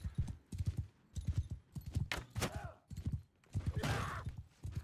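Galloping horse hooves pound in quick, rhythmic clusters in the Mount and Blade II: Bannerlord video game, loud and close, with a couple of brief whooshing swells between the hoofbeats.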